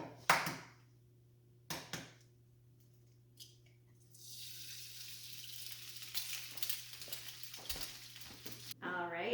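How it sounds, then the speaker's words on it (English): Sunny-side eggs fry in a teaspoon of oil in a pan. A few sharp knocks come first, then a soft, crackling sizzle rises and runs on to the end. "add 1 last teaspoon of oil. And we are going to fry up some sunny-side eggs here."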